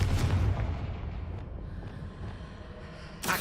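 A Confringo fire spell in Hogwarts Legacy bursts with a deep booming explosion that rolls and decays over a few seconds, followed by a short sharp crack near the end.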